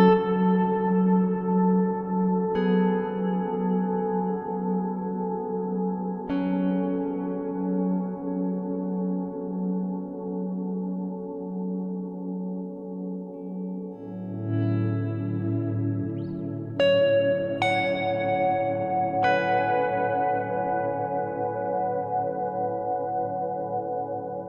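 Sustained guitar notes and chords ring out through a lush reverb from a Chase Bliss CXM 1978 pedal, each one trailing off in a long, shimmering tail as new notes enter.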